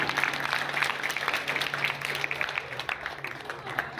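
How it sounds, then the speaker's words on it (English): Audience applause at a school annual day as a chief guest is honoured, steady moderate clapping throughout with a voice talking over it and a low hum beneath. "Have a big round of applause."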